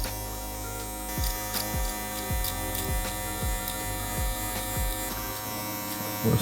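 Electric hair clippers fitted with a 1.5 guard cut hair close up, a steady buzzing hum with a repeated rhythmic pulsing as the blade passes through the hair.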